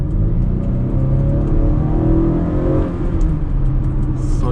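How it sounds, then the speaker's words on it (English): A 2021 Acura RDX in sport mode accelerating hard at night, the engine note climbing steadily in pitch with a smooth whirring rise heard from inside the cabin. "let me give it a little acceleration real quick in sport, and we'll see what she does"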